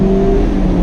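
A 2019 Mazda MX-5 RF with a six-speed transmission driving with the top down, a brief, loud, steady engine hum with road noise.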